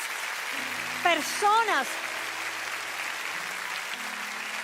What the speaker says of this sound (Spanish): quiero que toda esta iglesia celebre y les dé un aplauso fuerte a todas estas